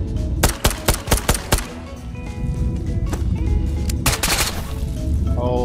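Sharp gunshots crack in a fast burst of about six in the Ghosts of Tabor VR shooter game, then a quieter stretch of game noise before another cluster of loud shots near the end; no speech.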